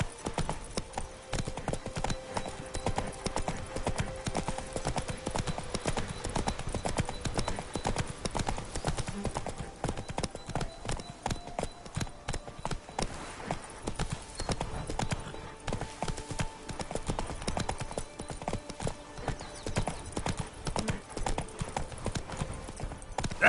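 Horse Roach from The Witcher 3 trotting along, a continuous run of crisp hoof clip-clops in a steady rhythm lasting the whole stretch, with soft background ambience and no talk.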